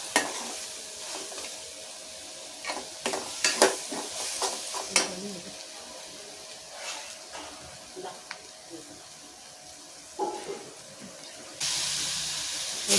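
Fish curry masala with chilli powder being stirred and mashed in a pan, with irregular scraping and clinking of a spoon against metal over a soft simmering sizzle, moderately close.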